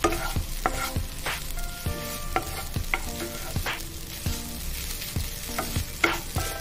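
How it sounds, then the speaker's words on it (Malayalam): Curry leaves sizzle in hot oil in a pan for papaya thokku, a close, steady frying hiss broken by repeated sharp stirring clicks and scrapes, with no one speaking. "ഇനി നമ്മൾ അതിലേക്ക് കറിവേപ്പില ഇട്ട് കൊടുക്കാം"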